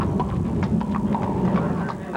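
Hooves of a 15-hand police horse, a gelding borrowed from a county-owned stable, clop in a steady, moderately close rhythm against a continuous low background rumble.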